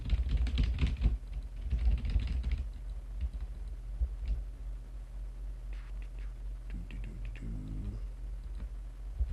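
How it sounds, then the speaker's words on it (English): Rapid typing clatters on a keyboard at close range, bursts of keystrokes with brief pauses, alongside low background hum. "let's go ahead and start typing"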